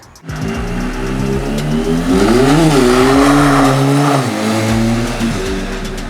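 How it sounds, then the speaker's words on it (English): A Benelli Leoncino 500 scrambler motorcycle engine accelerates under load, its tone climbing and dipping through gear changes as it roars continuously and loudly nearby. "the motorcycle sounds really very majestic"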